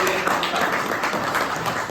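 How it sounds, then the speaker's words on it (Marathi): A crowd at a felicitation ceremony for a student gives loud, continuous clapping, a thick and even burst of applause from start to finish. "त्या जोरदार टाळ्या वाजून"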